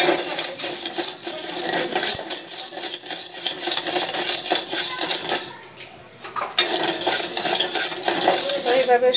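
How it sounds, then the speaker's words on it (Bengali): Rice grains dry-fried a small batch at a time in a pan, stirred continuously with a metal utensil, giving a steady loud scraping, clinking rattle that pauses briefly before resuming. "অল্প অল্প করে দিয়ে ভেজে নিতে হবে চালগুলো, বেশি করে দিলে ভাজা হবে না ঠিক মতো"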